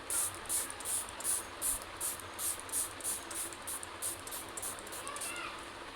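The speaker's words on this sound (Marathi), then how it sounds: "थर्ड टोनर स्प्रे करायचा" A pump bottle of facial toner mists onto a face in about fourteen quick, even sprays, each a short soft hiss, close and fairly quiet against low room noise.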